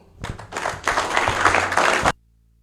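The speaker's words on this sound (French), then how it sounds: "Les applaudissements sont beaucoup plus chauds que ça." A crowd claps for about two seconds at a staff installation ceremony at the Karis health center, loud and close, rising quickly and stopping sharply.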